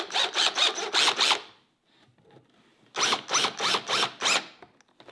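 A power drill drives screws into the wood of a simple bookshelf, two bursts of rapid ratcheting whirs separated by a quiet pause, close and clear.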